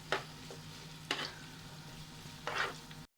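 Chilli chicken ingredients sautéing in a pan for restaurant-style Indo Chinese cooking, with a soft steady sizzle broken by three distinct scraping stirs, close and quiet with no talking.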